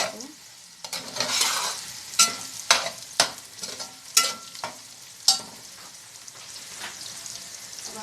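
Fried eggs are stirred and broken up in a hot pan, with a sizzling hiss under a series of sharp spatula scrapes and taps at an irregular pace, close and fairly loud.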